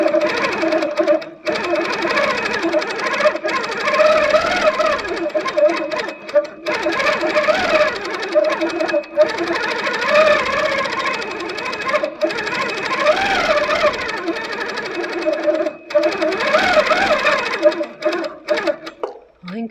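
A sewing machine stitches swirl patterns into a quilt, running steadily and loud with a whirring, varying pitch as the speed changes, pausing briefly a few times.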